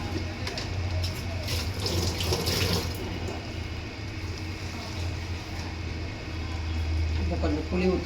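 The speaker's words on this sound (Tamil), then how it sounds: "இப்போ வந்து இதில் வந்து புளி ஊற்றிக்கலாம்" Tamarind water pours and splashes into a pan of curry, running for several seconds at moderate level under background kitchen noise with some voice present.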